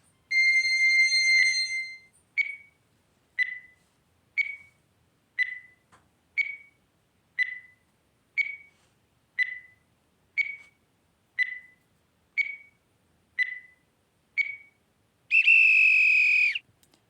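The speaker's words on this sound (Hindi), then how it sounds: "मैं आप लोग के लिए टाइमर लगा दे रहा हूँ।" Countdown timer during a scholarship exam mental ability question: a long beep opens, followed by about a dozen short evenly spaced ticking bleeps roughly once per second, ending in a longer ringing alarm tone, clean and alone with no talk.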